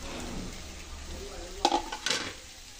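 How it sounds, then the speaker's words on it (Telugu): Masala spice mixture is stirred in a sizzling pan for aloo bread rolls, with a soft steady fry and two clear scraping clinks of the spoon against the pan near the end. "ఈ మసాలాని అంతా బాగా కలుపుకోవాలండి."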